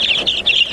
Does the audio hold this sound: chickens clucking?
yes